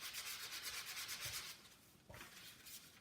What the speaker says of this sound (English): you're just going to very lightly sand